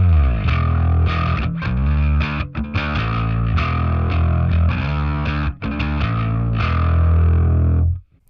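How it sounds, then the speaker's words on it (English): A bass guitar picked through a drive pedal gives a loud, gritty, distorted tone, with sustained notes and short phrases played alone and held right up to a sudden stop. "Let's go ahead and mess with this drive and see what that guy sounds like."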